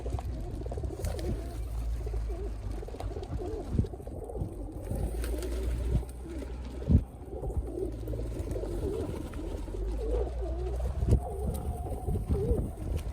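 Pigeons coo repeatedly in low, soft murmurs against a quiet background, with occasional rustles and light thumps.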